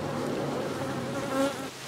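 Honeybees buzz steadily at a hive kept by a local beekeeping association in Broward, Florida, with bees fanning at the entrance; a dense, continuous close-up drone that swells briefly near the end.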